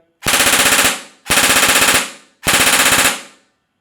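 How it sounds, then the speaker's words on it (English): Three loud, rapid bursts of full-auto fire from an airsoft gun, each about half a second of quick rattling shots, separated by short pauses. "Alright, so on semi-automatic. That's got a real good pop to it. And on auto."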